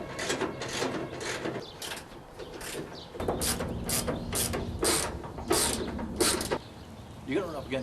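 A hand ratchet clicks in repeated bursts of strokes while unbolting the cowl and front fender of a 1960s car, close and loud, with brief pauses between runs.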